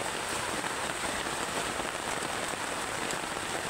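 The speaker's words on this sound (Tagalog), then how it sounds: "Ulan kasi mga idol" Steady rain falls on a hard surface, a dense continuous patter with no pauses or voices.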